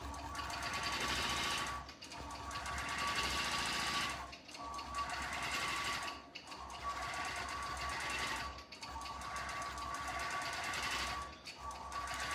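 A sewing machine stitches through a Minky fabric quilt in close, steady bursts of rapid needle chatter, pausing briefly every couple of seconds before running on again, with no talking.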